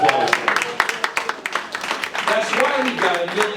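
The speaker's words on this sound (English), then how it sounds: "it does deserve a little bit of a round of applause" An audience at a community event on opioids gives a scattered round of applause, individual claps audible in an uneven patter, with speech running over it.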